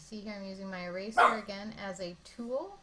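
A nearby dog barks sharply a couple of times while a person keeps talking over it.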